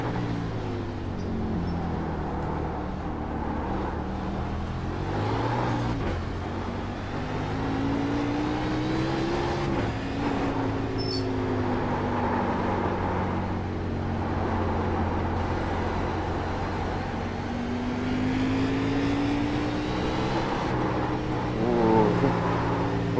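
NASCAR Class A race car at Sonoma in iRacing, its engine droning and revving for a long stretch, pitch rising and falling through throttle changes and gear shifts, loud and continuous without speech.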